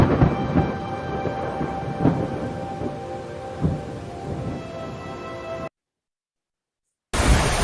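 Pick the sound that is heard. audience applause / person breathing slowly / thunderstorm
thunderstorm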